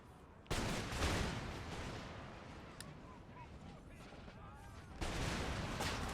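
Musket volleys in the video game Empire Total War, with Prussian line infantry crashing out rolling bursts of gunfire that rise sharply, trail into crackling scattered shots and then erupt again, loud and dense against a battlefield din.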